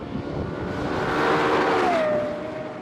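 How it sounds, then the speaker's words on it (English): Lexus LFA engine note from its triple exhaust, a loud high-pitched rev that climbs, peaks and falls away over a few seconds, with no talking. "this 3 exhaust, which makes one of the most wonderful engine sounds in the world, the LFA"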